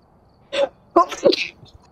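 A single sharp sneeze, close and loud, followed by a brief vocal sound and some faint background noise.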